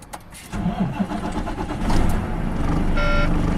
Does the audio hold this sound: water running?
no